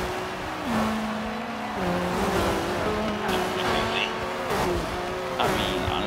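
A maxed-out car driven in the racing video game Forza Horizon 3, with a steady engine drone whose pitch steps up through gear shifts and occasional tyre squeal, heard under players' chatter.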